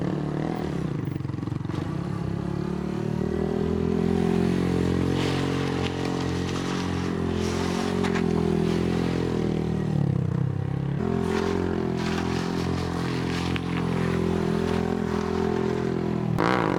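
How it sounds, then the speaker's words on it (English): A 2017 Honda Grom 125cc motorcycle with an aftermarket exhaust, idling and blipping with a steady buzzy engine note and some clattering, heard up close in a garage. "That's a 2017 Grom 125 cc. You got some aftermarket exhaust"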